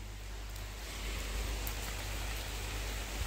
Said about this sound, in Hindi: बारिश यहाँ बहुत तेज हो रहा है आप लोग देख सकते हो